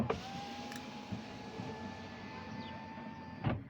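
An electric window motor on a VW Transporter T5 runs after a switch replacement, a steady whirring hum lasting several seconds, beginning and ending with soft clunks.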